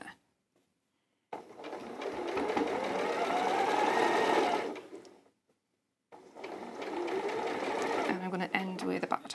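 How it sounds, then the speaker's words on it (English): Domestic sewing machine stitching up to the edge of a garment pocket, a steady whirring run that stops briefly and then starts again, close and clear. "So I've just got to the top of the pocket there. And stitch to the edge there."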